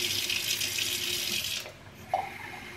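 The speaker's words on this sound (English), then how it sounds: "I just filled the glass with a bit more water." Water pours from a tap into a glass in a steady hiss, cutting off after about a second and a half, followed by a faint clink.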